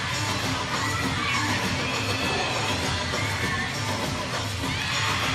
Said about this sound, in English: You can see her teammates in the corner really cheering her on and having a good time with her.